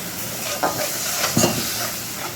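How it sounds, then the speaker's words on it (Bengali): Spice paste with chilli and turmeric fries in a pan as a low, continuous sizzle and hiss, with a couple of soft stirring scrapes, and no one talking. "মশলাটাকে একটু লঙ্কা হলুদের সাথে কষিয়ে নেব"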